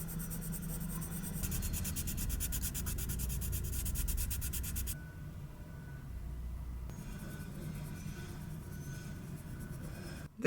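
Pencil crayons scratching steadily across paper in a close, continuous rubbing stroke that briefly softens partway through, with no voices.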